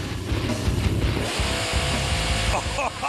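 A four-wheel drive hill climb machine launches with a loud, rough engine roar that stays strong and steady for a few seconds, with an announcer talking over it.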